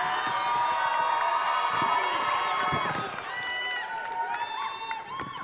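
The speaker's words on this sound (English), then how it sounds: "can you please make some noise for Ramon?" A large audience at a community event cheers and applauds, with whoops and excited shouting over continuous clapping and crowd noise.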